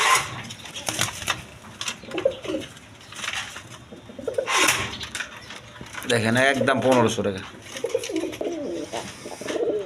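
Pigeons being sold with eggs and chicks coo in low, throaty bursts, mostly half-buried under someone talking loudly nearby, with a clearer stretch of rolling coos midway.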